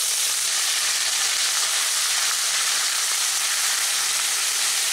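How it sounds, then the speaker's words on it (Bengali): Ginger and cumin paste sizzles loudly in hot oil with a splash of water, a steady dense hiss that continues unbroken for the whole stretch with no voices. "তেলের উপরে আদাটা দিলে খুব বেশি ছিটকোয়, এর জন্য সামান্য একটু জল দিয়ে এটাকে আমি নাড়াচাড়া করে নিচ্ছি"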